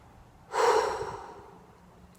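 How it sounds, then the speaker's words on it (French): A single deep breath, one loud close inhale that swells quickly and then tapers off slowly, with a small click near the end. "Je vous propose qu'on prenne ensemble une grande respiration avant de ne démarrer cette vidéo."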